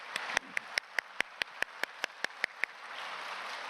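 A church congregation claps in unison, about a dozen sharp, evenly timed beats in quick rhythm, then the clapping stops and leaves faint room noise.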